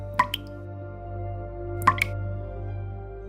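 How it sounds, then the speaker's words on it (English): Water drips in the Beni Add limestone cave, two separate drops, each a sharp plop with a short echo, heard against a steady low background hum. "Each falling drop of water is a whisper"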